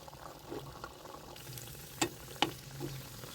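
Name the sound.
spinach puri deep frying in oil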